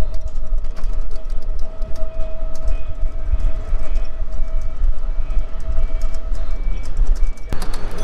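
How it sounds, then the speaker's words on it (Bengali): A train runs loudly and close by at Rajshahi railway station in Bangladesh, with a continuous rumble and rattle of rail cars and a sustained tonal whine, then a sharp burst near the end. "আমি ক্রস করতেছি রাজশাহী রেলওয়ে স্টেশন।"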